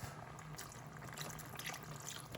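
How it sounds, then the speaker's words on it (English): Broth poured into a pot of healthy vegetable soup, a steady, continuous liquid trickle and splash that runs unbroken for a couple of seconds, fairly quiet and close, with no talking over it. "I'll put a little bit of the broth."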